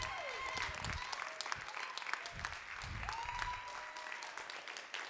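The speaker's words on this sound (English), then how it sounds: "Come on, keep clapping." A church congregation applauds steadily and loudly throughout, a dense wash of clapping with scattered cheers and a voice calling out over it.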